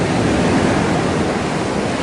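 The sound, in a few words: ocean waves crashing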